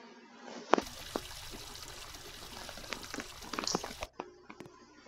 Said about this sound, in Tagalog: Shower muna ako.